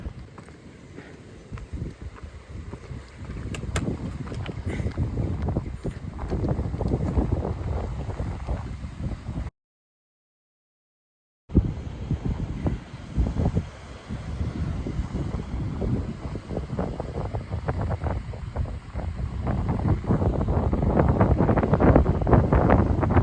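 Strong gusting wind buffets the microphone on an exposed coastal hiking path in Devon, a loud, continuous roar that drops out briefly before returning even harder.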